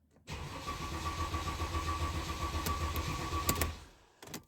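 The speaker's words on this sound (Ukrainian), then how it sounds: "Так, заводимо машину." A Mercedes Vito 639 with a 3.0 engine and a charging fault cranks for several seconds without catching, a steady close whirring churn that stops abruptly, followed by a few clicks and a brief second burst.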